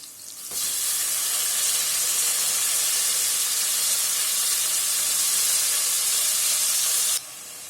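Tomato pieces frying in a pan for a cauliflower and field-bean curry, giving a steady, loud hissing sizzle that starts abruptly, holds evenly for several seconds, then drops back to a quieter hiss.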